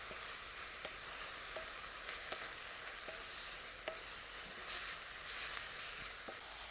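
Chillies fry in oil in a pan for mango blossom chutney, giving a soft, steady sizzle punctuated by light clicks and taps of a spatula stirring them at a quiet, even level.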